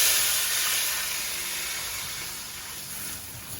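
Water hisses and sizzles as it is poured into the hot water pan of a Big Green Egg smoker, loud at first and slowly fading to a softer steady steam.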